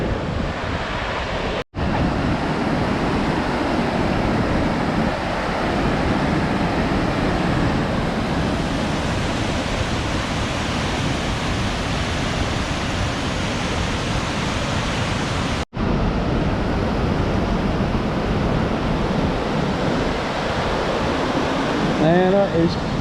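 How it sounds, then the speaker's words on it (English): Ellenborough Falls in flood, a powerful waterfall roaring as a constant broadband rush with heavy wind buffeting the microphone, continuous and loud, broken by two brief dropouts and a faint voice near the end. "So it's the waterfall."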